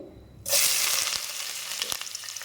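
Onions hit hot oil in a pan with a sudden loud sizzle that stays steady and crackling, with a few stirring clicks and no voices, while cooking gongura chicken.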